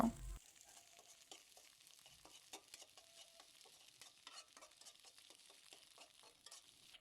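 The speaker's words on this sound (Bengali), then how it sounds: "এবার এগুলোকে ভালোভাবে ভেজে নিব" Beaten eggs with a spoonful of salt fry quietly in a pan, and a spatula scrapes and taps in a quick, irregular rhythm over a soft sizzle, following a brief louder bump at the start. No voices.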